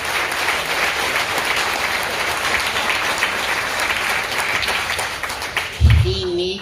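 Sustained applause from a crowd at a car dealership ribbon-cutting ceremony, honoring an employee with 27 years of service; steady, even clapping throughout, with a brief low thump near the end.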